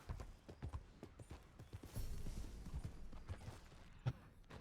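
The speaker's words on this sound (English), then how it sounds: "The horse bonded immediately after it fell on its own face." Horse hooves clip-clopping in the Red Dead Redemption 2 video game, a quiet, irregular series of soft hoof thuds with a brief louder knock near the end, no talk.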